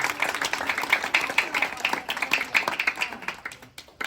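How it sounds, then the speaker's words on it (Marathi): A group claps steadily together in welcome at a religious family ceremony, a quick, even patter of many hands that tapers off near the end. "सगळ्यांनी टाळ्या वाजून स्वागत करायचं"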